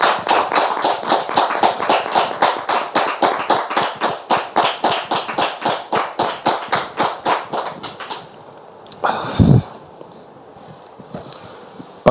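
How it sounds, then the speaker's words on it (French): Rhythmic unison clapping from a church audience welcoming a visiting brother, fast even beats that run for about eight seconds before stopping, followed by a brief loud bump and quieter room noise. "Public, merci de recevoir le frère en question sous vos applaudissements"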